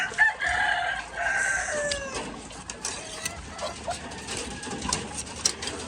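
Chickens in a farm coop cluck and crow close by, a rooster's call rising early among scattered clucks and rustling, with brief faint human sounds in the background.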